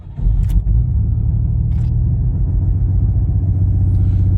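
A 1989 Grand Prix Turbo McLaren engine catches and settles into a steady, close, deep rumbling idle, with a couple of faint clicks early on and no talking.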